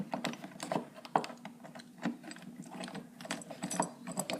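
A screwdriver works a lower screw on a bracket during restoration of a caboose, giving close, quiet ratcheting clicks and small mechanical taps in an uneven rhythm.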